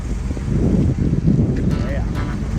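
A 1966 Chevy pickup idles outdoors in snowy mountain country, its low, steady rumble mixed with gusts of wind buffeting the microphone.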